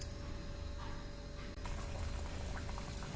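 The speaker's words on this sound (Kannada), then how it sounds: "ಅದು ಕುದೀಲಿ" A pot of water with beetroot boils steadily, a soft continuous bubbling and simmering hiss at close range with no voices.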